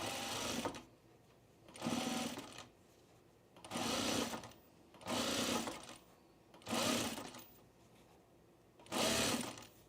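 A sewing machine stitches the underarm seam of a pre-quilted Tamarack jacket in six even bursts, each about a second long, with brief pauses between. It runs close and steady, and no one speaks.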